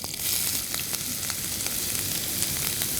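Capsicum frying in hot oil with cumin in a deep pan, a steady close sizzle and crackle with scattered pops throughout, no voices.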